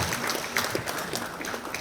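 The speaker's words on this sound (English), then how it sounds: "Give him a round of applause" Talk show studio audience applauds, a steady wash of many hands clapping at moderate distance, fairly soft and even for a short stretch with no talk over it.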